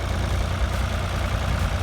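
A tractor engine runs outdoors on a farm while greenhouse trusses go up, a steady low chugging idle, close and constant for a brief moment with no talk.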